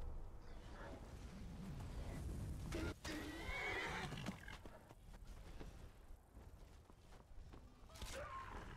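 A pony in the video game Skyrim neighs and whinnies loudly, with clip-clopping hooves and faint ambient wind beneath, the calls rising and falling over several seconds.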